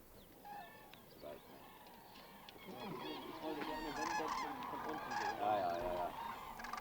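A flock of European cranes returning to a frozen Swedish wetland in spring calls continuously, many trumpeting voices overlapping and swelling into a dense, fairly distant chorus, with a narrator speaking over it.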